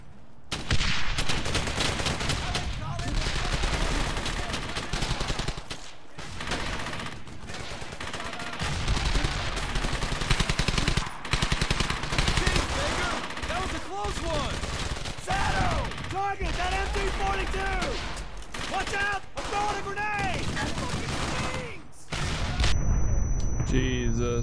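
Sustained gunfire in Brothers in Arms: Hell's Highway, a World War II shooter, with dense rapid bursts and single cracks packed close together, loud and near, while voices shout over the battle.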